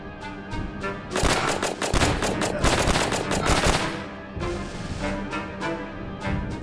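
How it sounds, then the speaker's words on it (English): Rapid machine gun bursts in the trench warfare game Trenches II, loud dense rattling salvos with sharp repeated cracks, a heavy burst in the middle flanked by lighter rhythmic shots, with no voices. "They're gonna run right into my machine gun."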